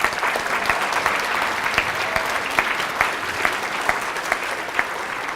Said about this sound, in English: So let's give yourselves a round of applause for that